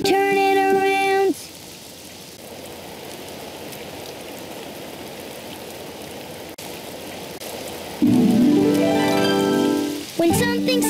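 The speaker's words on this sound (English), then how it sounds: "It's raining outside." A soft, steady hiss of rain falls outside, heard alone between short bursts of cheerful music at the start and the end.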